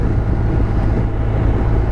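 A 2023 BMW R 1250 RT boxer-engine motorcycle on the move produces a dense, steady low rumble blended with wind roar, with no talking.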